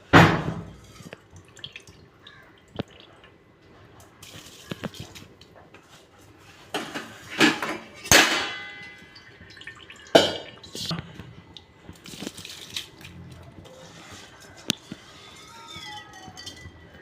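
Washed rice is tipped into a pot of boiling water for chicken biryani, giving quiet splashes, drips and clinks from the pot and utensils, with soft bubbling between sparse, scattered sounds.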